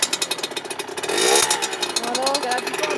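A 2015 Sherco 50 motorcycle's small engine putters in rapid pulses, then revs up into a loud, buzzy drone that wavers in pitch, close by, with someone talking over it.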